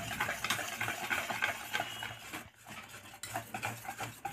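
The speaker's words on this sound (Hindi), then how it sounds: "मैदा, सूजी और चीनी तीनों को एक साथ इस तरीके से फेंट लूंगी।" Flour, semolina and sugar being whisked together for a malai cake batter, giving steady rhythmic scraping and stirring strokes close by, with a brief pause midway and no voices.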